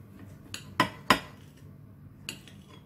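Cutlery cuts through banana bread turon, giving a few sharp metallic clinks against a plate, with two louder strikes close together near the start and a softer one later, over a quiet background.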